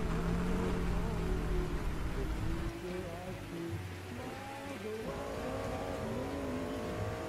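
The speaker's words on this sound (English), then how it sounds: "Gentlemen, start your engine." Race car engines in the NASCAR 2000 video game, heard as a dense field of droning, revving motors under a steady hiss, with pitches climbing and layering as the pack fires up and builds.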